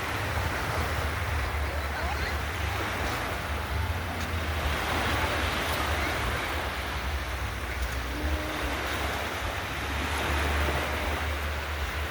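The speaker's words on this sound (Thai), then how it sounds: "ช่วงนี้ ลมแรงขึ้น" Strong wind and sea surf roar steadily at Mae Ramphueng beach in Thailand, a continuous, loud wash of waves and gusting wind with no clear breaks.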